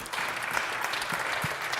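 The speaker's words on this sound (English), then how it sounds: "Let's give him a big round of applause, Kenny Elliott." Audience applause fills a jazz vespers church service, a steady dense patter of many hands clapping at moderate volume throughout, with no talking over it.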